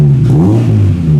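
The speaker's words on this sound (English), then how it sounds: "Give her a little rev, Scouse." Honda Civic with a B18 engine swap revving up once, a brief loud rise and fall of engine pitch heard close by with no talk.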